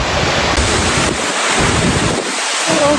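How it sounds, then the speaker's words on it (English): Skjervsfossen waterfall in Norway, which drops 135 metres, gives a loud, steady roar of rushing water heard close by, mixed with buffeting wind noise and no talking. "Another waterfalls again in Norway."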